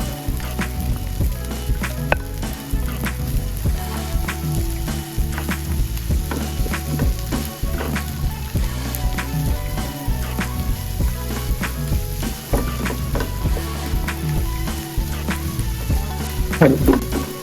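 Eggs frying in a pan for a fish and green bean dish, a steady dense sizzle with faint stirring scrapes running throughout, close and even.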